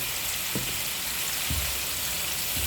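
Spice paste with ginger and garlic fries in a pan, giving a close, steady broadband hiss and crackle that runs the whole time, with a few soft low knocks from stirring.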